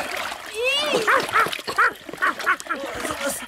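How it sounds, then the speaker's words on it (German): A dog barks and yips repeatedly while hopping back and forth on a boat jetty by a lake in a German children's radio play, with sharp close barks under a voice speaking. "Und Knut hüpft bellend auf dem Bootssteg hin und her"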